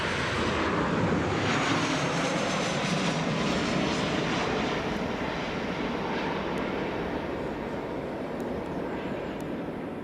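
A Jet2 airliner at Leeds Bradford Airport produces a steady, loud engine roar that fills the whole stretch without a break, with no voices over it.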